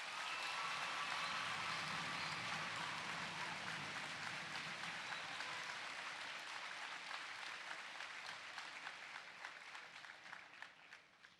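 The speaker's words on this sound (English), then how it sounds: "Please give them all one more round of applause" Sustained applause from a school assembly audience at a Veterans Day event, a dense wash of clapping that holds steady and slowly thins and fades toward the end, with no talk over it.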